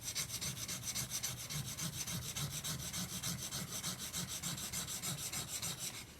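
A steel chisel is stroked back and forth on an abrasive sharpening surface, giving a steady, rhythmic rasping scrape about three strokes per second, close and unbroken, with no voices.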